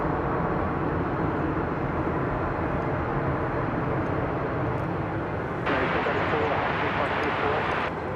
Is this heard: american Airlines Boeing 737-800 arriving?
yes